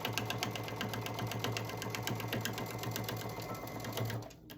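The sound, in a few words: sewing machine back stitching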